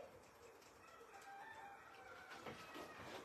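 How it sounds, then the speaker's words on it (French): A neighbour's rooster crowing in the French countryside, faint and distant behind a soft steady indoor background, with no one speaking. "le coq du voisin, je l'entends"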